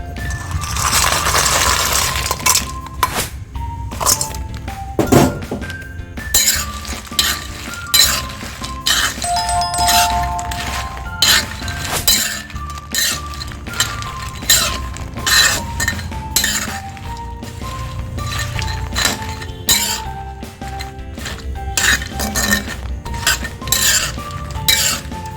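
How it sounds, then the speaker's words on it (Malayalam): Fried banana chips being tipped into melted jaggery in a pan and stirred, with repeated clinks and scrapes of a utensil against the pan in an uneven rhythm, close and fairly quiet. "ഇനി ഇതിലേക്ക് നമ്മൾ വറുത്ത് വെച്ച് നമ്മുടെ ഉപ്പേരി ഇതിലേക്ക് ചേർത്ത് കൊടുക്കണം."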